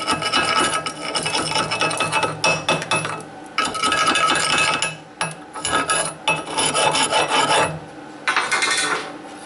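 Stick welding with a 7018 rod on an AHP Alpha 160ST welder at 220 volts and 110 amps gives a steady loud crackling, sizzling hiss that breaks off in short pauses and restarts.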